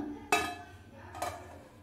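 A metal lid goes onto a pot of fish curry with two close clanks, the first sharper and the second lighter, ringing briefly in a quiet kitchen.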